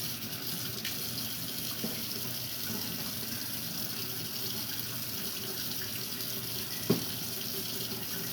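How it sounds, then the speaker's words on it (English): A kitchen tap runs steadily into a sink while a cow foot is rinsed, giving a continuous close hiss of flowing water with one brief knock partway through. "Wash this off."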